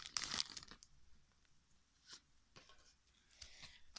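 A Pokémon Evolutions booster pack tears open with a sharp crinkly rip of foil wrapper, followed by faint scattered rustles and crinkles as the pack is handled, quiet and close.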